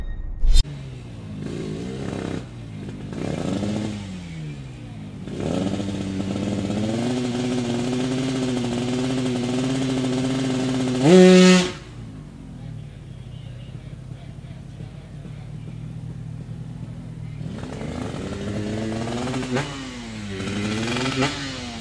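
A racing motorcycle engine at a drag race revs hard in repeated rising bursts, then holds a loud high-pitched scream that cuts off sharply, followed by quieter idling and more revs; no speech.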